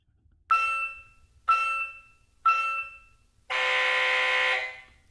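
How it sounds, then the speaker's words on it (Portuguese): An LED multisport scoreboard timer gives three short electronic beeps at even one-second intervals, followed by one longer sustained beep, loud and clear against near silence. "Nos últimos 3 segundos ele vai emitir os 3 bips"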